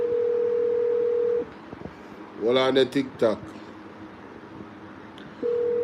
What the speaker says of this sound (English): See if I can get her on the phone.